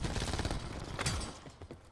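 Fairly quiet Call of Duty: Black Ops 4 multiplayer gunfire: a rapid string of sharp shots fades into a few sparser pops.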